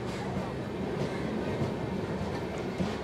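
Tirumala Express pulling out of Medapadu station, heard from inside a packed coach as a continuous low rumble and rattle of the rolling carriage, with faint passenger voices underneath.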